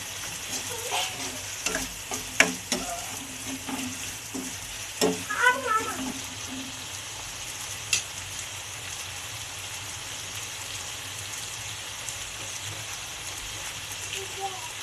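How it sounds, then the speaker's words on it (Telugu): Two chopped tomatoes frying in a pan of mutton curry masala, a steady sizzle running throughout with a few stirring clatters early on, heard close and moderately loud. "ఇప్పుడు మనం కోసి పెట్టుకున్న టమాటాలు ఒక రెండు టమాటాలు వేస్తున్నాం."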